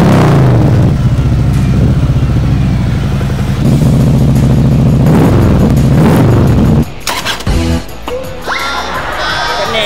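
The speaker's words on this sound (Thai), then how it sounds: "ท่อแต่ละรุ่นกับเครื่องแต่ละตัวเปรียบเทียบกันเลยว่าปลายท่อตัวนี้เสียงจะออกมาเป็นแบบไหน" Harley-Davidson Touring motorcycle with an aftermarket exhaust, engine running loud and close with a deep rumbling roar that drops to a rougher, lower idle with clattering near the end.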